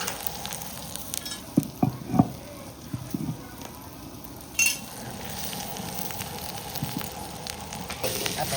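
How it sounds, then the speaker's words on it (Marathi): Ground fresh chana paste sizzles in a pan as it is sautéed, a soft crackle with scattered stirring scrapes and taps, close and moderately quiet, with no speech. "आता ही छानपैकी असं परतून घ्यायचं."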